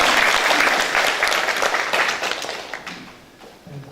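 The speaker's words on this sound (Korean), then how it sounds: "찬양 박수로 하나님께" A church congregation at an afternoon praise service claps in praise, loud and dense at first, then thinning into scattered claps as it fades out.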